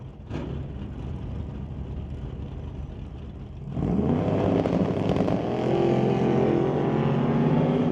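A 1931 Model A hot rod launching at a drag race: the engine idles, then surges into a loud rising roar that carries steadily to the end.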